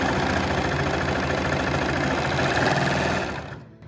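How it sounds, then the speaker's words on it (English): A sewing machine, apparently a cutting, edge-finishing type, stitches a test scrap of leotard fabric in a loud, fast, continuous mechanical whir that runs steadily, then slows and stops near the end. "we always have to do the testing before actually sewing the fabric"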